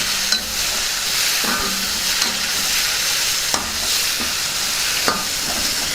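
A spoon scrapes and stirs through sizzling tempering with lemon juice in a pan, with a few sharp knocks against the metal over steady frying hiss.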